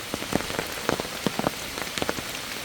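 Steady rain falls on a surface, a dense hiss with scattered louder drops spattering close by, constant and without voices.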